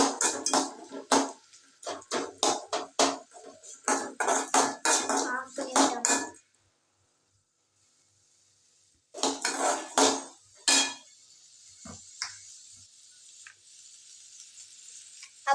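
Coconut and other chutney ingredients are stirred in a pan with a metal spoon, giving rapid clattering scrapes and knocks in dense bursts, then a quiet pause before more stirring and scattered clinks return.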